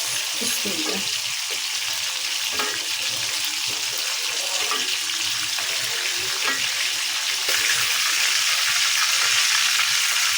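Prawns frying in hot oil for a prawn malai curry: a dense, loud, continuous hiss of sizzling with occasional spatter and faint stirring, steady throughout and growing slightly louder near the end.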